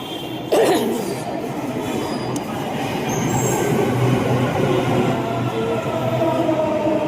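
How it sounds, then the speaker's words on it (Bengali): A Noida metro train pulls into a station with a loud, steady rumble and rolling wheel noise, building after a sharp onset and holding strong, with faint high squeals above it. "এই আর কি মেট্রো আসছে"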